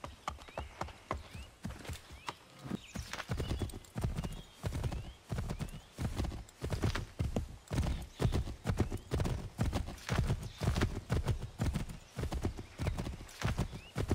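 A horse gallops in the Assassin's Creed III video game, with steady, rhythmic clip-clop hoofbeats running throughout and a brief whinny, close and even in level.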